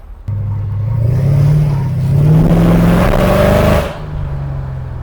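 Mercedes CL55 AMG pulling away from rest, its engine note rising loudly and steadily through about three seconds of acceleration before easing back to a lower drone, close and alone without talk.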